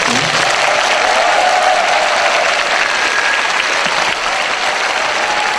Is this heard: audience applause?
yes